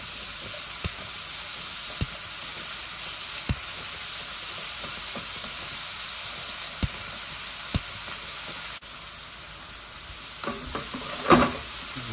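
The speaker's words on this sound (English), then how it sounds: "Once we start to get some color on the mushrooms, cook all the way through, give it another quick toss, stir it around" Mushrooms fry in a pan with a constant close sizzle and hiss, broken by a few sharp utensil taps and scrapes as they are stirred and tossed.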